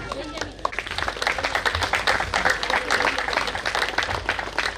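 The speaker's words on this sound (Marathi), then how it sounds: "ज्याला 2 हात आहेत त्यांनी टाळ्या वाजवायचे" Guests clapping at a family wedding felicitation, a steady patter of many hands mixed with crowd voices and speech running throughout.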